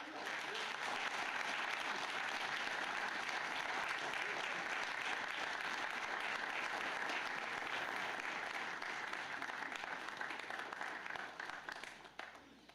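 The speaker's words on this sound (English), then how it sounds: "with a warm round of applause" A large crowd applauds steadily and loudly, a dense wash of clapping that holds for about ten seconds before tapering off at the end.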